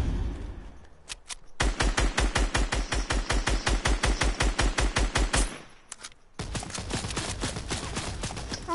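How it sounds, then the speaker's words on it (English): Fortnite gunfire bursts out in a long rapid automatic volley of loud, evenly spaced shots, then breaks off briefly before a denser, continuous stretch of firing resumes. "Shoot him down. I'll shoot him down."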